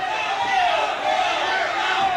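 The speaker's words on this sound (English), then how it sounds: "And the crowd is saying, no way." A wrestling crowd at an NWA Detroit show chants "no way" in unison against Austin Idol during his match with Al Thomas, a loud, sustained wall of massed voices that fills the whole arena with no pause.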